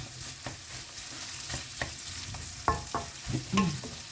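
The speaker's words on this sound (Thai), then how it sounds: "ผัดหมูค่ะ ผัดหมู" Pork with cabbage, carrot and onion stir-fries in a pan, a soft sizzle broken by irregular scraping and tossing strokes of the spatula, several sharper clacks toward the end, with no speech.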